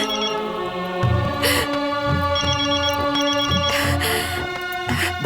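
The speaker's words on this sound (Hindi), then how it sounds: "आ गया तुम्हारे देवरों का फोन।" A telephone rings repeatedly in a steady electronic pattern over a faint musical background, near and clear, with no talking.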